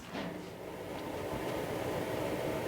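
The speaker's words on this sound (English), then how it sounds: "That was my furnace blower." A wood-burning furnace blower runs steadily nearby, a continuous broadband rumbling whoosh with a low droning hum and no talking.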